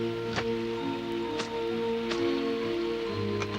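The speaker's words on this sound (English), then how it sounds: "It had been raining since lunchtime" Cartoon rain falling steadily on a house through a rainy afternoon, a soft continuous patter with occasional louder drops over a quiet musical background.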